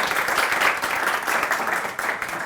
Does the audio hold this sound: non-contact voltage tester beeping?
no